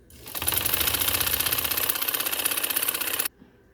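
Sewing machine stitching a salwar leg hem, a fast steady rattling run of close, loud stitching that starts abruptly, holds for about three seconds, then stops dead into near silence.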